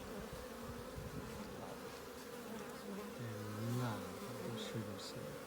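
Honey bees buzz around a beehive, a close, continuous drone with wavering pitch as individual insects pass near, with no talk over it.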